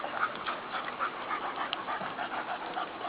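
Dogs pant quickly and steadily at close range during a group socialization session, with a faint whimper mixed into the rhythmic breathing.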